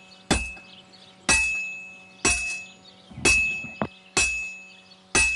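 A blacksmith hammering metal in Kingdom Come: Deliverance 2, six loud ringing hammer blows at roughly one-second intervals, each leaving a bright metallic ring that decays before the next, with a faint steady tone beneath.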